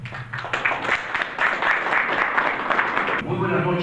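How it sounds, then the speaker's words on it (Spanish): Audience applause at a mining conference in Arequipa, a broad wash of many hands clapping that holds steady for about three seconds and then tapers off, with a low hum beneath at the end. "Aplausos, por favor."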